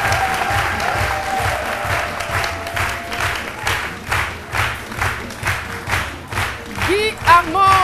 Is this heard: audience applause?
yes